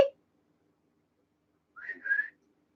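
Someone whistles to call a dog, a short clear two-note whistle rising and then holding after a brief click and a long pause.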